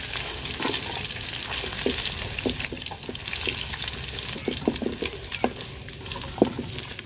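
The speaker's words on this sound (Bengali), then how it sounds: "মাছটা আমি কড়া করে ভাজা নিচ্ছি" Pieces of shoal fish fry crisp in hot oil, a continuous bubbling sizzle with scattered pops and spatters, plus occasional scraping of a spatula against the pan.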